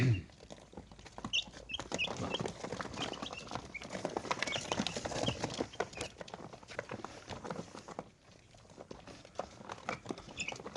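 Week-old chicks on a farm give faint, scattered high peeps over soft pattering and rustling, quiet and close throughout.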